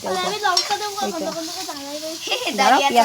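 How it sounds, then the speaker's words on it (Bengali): Food fries in a pan at an outdoor picnic with a soft sizzle and stirring underneath, while people talk loudly over it throughout. "ভাজা ভাজা হোক"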